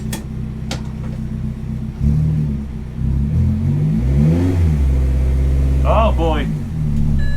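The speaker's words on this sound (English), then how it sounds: "So here we go in a 300 horsepower R55 Clubman." A 300 hp Mini R55 Clubman race car engine drones loudly and steadily from inside the cabin, revving up through the gears in rising sweeps, with a voice briefly speaking over it.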